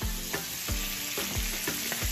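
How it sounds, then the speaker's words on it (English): Salmon sears in a hot pan with a loud, continuous sizzle and spitting crackle, punctuated by rhythmic low knocks from the pan or utensil roughly every half second. "So the salmon's been cooking for at least 5 minutes now?"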